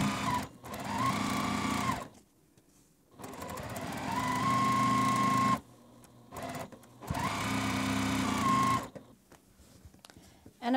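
Sewing machine stitching pieced quilt blocks for a maple leaf quilt, running in three loud sustained bursts of several seconds each with a steady mechanical whir, separated by short near-silent pauses.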